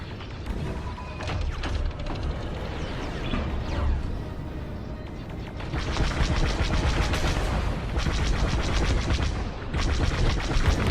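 Enemy fire during a battle-station attack in Star Wars Squadrons: loud rapid laser blasts and rattling bursts over a constant rumbling engine drone, with heavier volleys in the second half.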